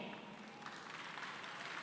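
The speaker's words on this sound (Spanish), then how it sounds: "Un fuerte aplauso a ustedes mismos." A church congregation at a Saturday worship service applauds in a faint, continuous patter that sounds distant and lasts the whole moment.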